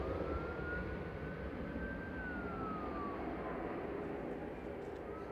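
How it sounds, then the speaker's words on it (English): Fire engine sirens under test at Manchester Airport, a single faint, distant wailing tone that rises and then falls over a steady background rumble, with people talking quietly. "Oh, they're playing with the fire engines, that's what you can hear."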